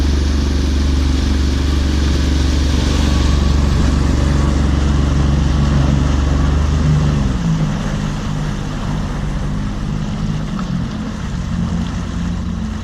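The outboard motor on a 2019 Grizzly Tracker 1448 boat running on the water, a loud, close, steady low engine rumble with clattering that drops in pitch partway through as the throttle eases.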